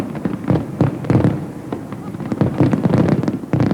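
Fireworks and rockets bursting in quick succession, a dense run of loud, close pops and crackles with barely any pause between them.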